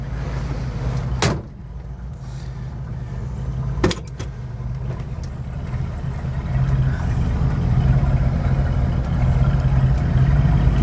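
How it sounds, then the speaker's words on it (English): A Ford 302 two-barrel V8 engine with a C4 automatic idles with a deep, steady rumble, interrupted early by two sharp clunks like a car door, the idle growing slightly louder. "It's a C4 automatic, a Ford 302 two-barrel engine."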